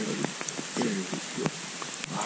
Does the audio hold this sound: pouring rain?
yes